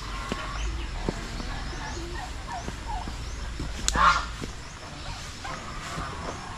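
A turkey on a farmyard among chickens and ducks lets out a sharp gobble midway, amid scattered fowl calls and outdoor background noise.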